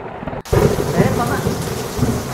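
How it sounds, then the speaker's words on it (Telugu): A heavy rumble of thunder crashes in after a short gap, then dense, loud rain keeps pouring steadily close by, with low rolling booms underneath and no one speaking. "ఉన్నట్టుండి క్లైమేట్ చేంజ్, వర్షం స్టార్ట్ అయింది"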